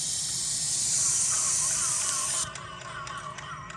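A steady, close hiss of an airless paint sprayer spraying a louvered bi-fold door, cutting off abruptly partway through, leaving a fainter background hum.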